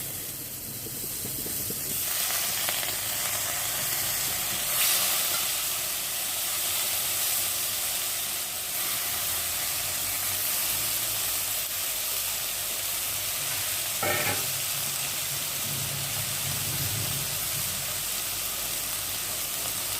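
Large headless shrimp hit a hot pan for a Bengali chingri potoler rosha, giving a steady, fairly faint hiss and sizzle that holds throughout with a few brief clinks.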